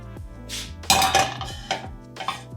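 A metal frying pan clanks and scrapes as it is placed on a hob, a few sharp knocks and rattles in quick succession, close by.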